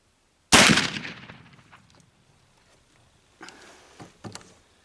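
A single loud rifle shot at a target during deer hunting season cracks close by and decays over about a second, followed by a few quieter handling clunks and rustles, with no talk.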